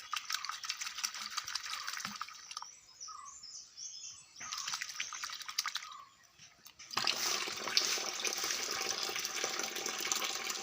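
Hibiscus petals washed under running water, a continuous splashing tap stream with brief lulls, then heavier, louder flow in the second half.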